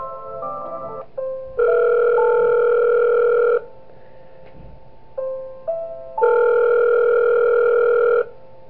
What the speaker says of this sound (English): I'm gonna listen to the phone call